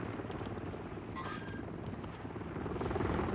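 A video game helicopter thrums as a continuous low rotor rumble, steady and fairly loud throughout, swelling slightly toward the end, with a faint electronic chirp in the middle.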